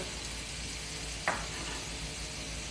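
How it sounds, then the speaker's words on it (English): Half a red onion tossed into a hot pan for chili con queso dip, giving a steady broad sizzle throughout with one brief clatter partway as it lands. "Next, I'm gonna throw my onions in there."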